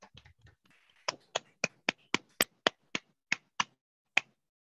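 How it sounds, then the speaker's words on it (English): A small meeting audience at a founders' gathering gives sparse, distinct claps welcoming the grammarian Irene, about a dozen near, crisp single claps in an uneven rhythm after a brief shuffle, with no talking. "Can you give me a big round of applause to welcome Irene?"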